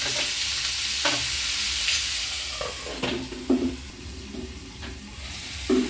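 Mixed vegetables frying in a pan for a restaurant-style dish, with a loud continuous sizzle and several scraping stirs of a spatula spaced through it, close up and without any speech.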